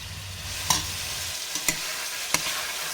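Pork pieces sizzle steadily in a plain steel sauté pan as they brown, with a constant frying hiss and a few sharp clinks of a utensil stirring the meat.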